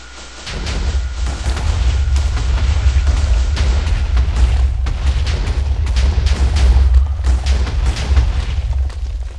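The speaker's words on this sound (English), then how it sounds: "here we have some explosive rockets" Explosive rockets fire and detonate in the Minecraft 1.6.4 Ancient Warfare mod during a siege-engine test, a steady run of loud, close booming blasts with heavy low rumble, repeated bursts following one another for several seconds without talk.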